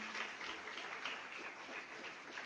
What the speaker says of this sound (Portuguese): vamos aplaudir ao Senhor pela vida desta família